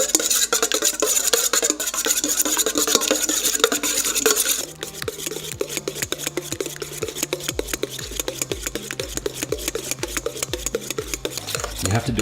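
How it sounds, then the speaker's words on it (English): Hollandaise sauce with lemon juice whisked in a bowl, a fast run of close, rhythmic scraping clicks that grows more distinct and evenly paced midway through. "And now we're gonna whisk this together."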